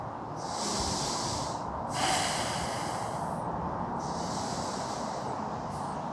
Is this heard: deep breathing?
yes